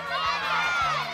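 A crowd of schoolchildren shouts and yells together during a classroom gladiators game, a short, dense burst of excited voices close by.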